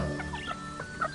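Hens cluck softly and briefly at close range, a few short clucks over a steady background hum.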